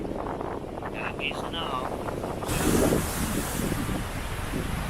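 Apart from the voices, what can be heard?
strong wind gusts blowing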